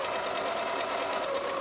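A sewing machine stitches a rib seam along a tube of fabric for a simple snood, with a steady, continuous, close-up whirr and no talking.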